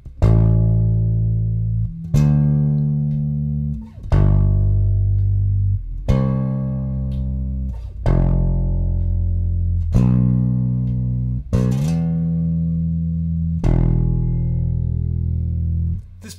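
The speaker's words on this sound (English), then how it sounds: "The bass player is simply playing the roots of each of the chords." Bass guitar plays the chord roots of a song, one sustained low note every two seconds or so, each plucked clearly and ringing alone with no voice over it.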